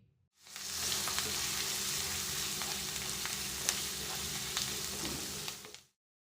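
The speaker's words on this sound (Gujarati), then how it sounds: "2 ટીસ્પૂન જેટલી કોથમીર ઉમેરી ટમેટાને એકદમ સારી રીતે મિક્સ કરી કૂક કરી લઈએ" Tomatoes cooked with Kashmiri chilli, salt and coriander leaves sizzle in a pan, a quiet, even frying hiss that swells in and holds for about five seconds before cutting off.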